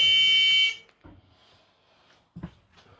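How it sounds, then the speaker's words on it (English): A school bus emergency exit buzzer blares loud and harsh for under a second, then cuts off, followed by a few quiet clicks and a thump. "The buzzer should sound as it does."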